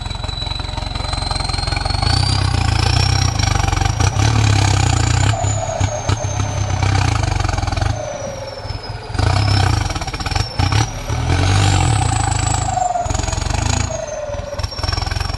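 Ford 6640 turbo tractor working to push over a large tree: a close, loud diesel engine running and revving steadily throughout, with rising and falling surges and rattling mechanical noise.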